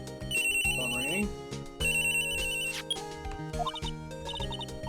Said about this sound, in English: Phone ringing.